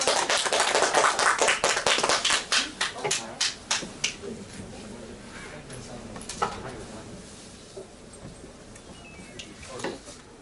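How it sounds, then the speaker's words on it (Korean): An audience at a student reading event claps for a reader. The applause starts loud and quickly thins into scattered, separate claps that fade out, with a few late claps near the end. "박수 쳐주세요."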